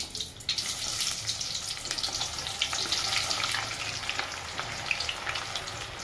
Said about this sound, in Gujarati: તો આપણે 2-3 ડુંગળી લીધી છે, કટિંગ કરી નાખી છે, આપણે એને શેકી નાખીએ થોડી।